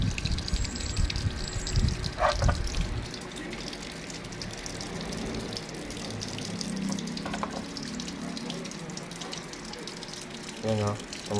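Water running and dripping into the tub of a Panasonic automatic washing machine converted to manual operation, a steady splashing trickle with small drips, someone talking over it.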